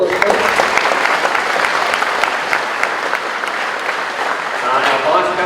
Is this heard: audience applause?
yes